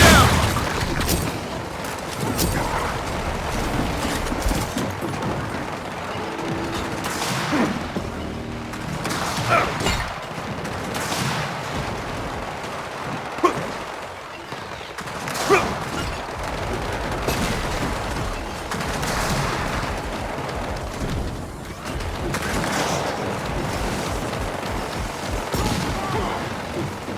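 Gunfire and explosions in the video game Gears of War 4 Horde Mode, repeated bursts and booms over a dense, busy battle background lasting the whole stretch.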